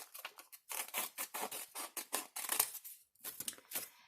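Scissors snip through a sheet of paper while a journal folder insert is trimmed, a quick run of crisp close cuts in uneven bursts with short pauses, quiet and without talk.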